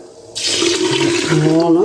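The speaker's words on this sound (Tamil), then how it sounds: "7 டம்ளர் தண்ணி விட்டுருக்குறேன்." A sudden gush of water pouring into a cooking pot holding rice and milk, steady and close, with the pitch rising as it fills.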